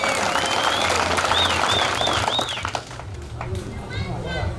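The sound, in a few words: crowd applause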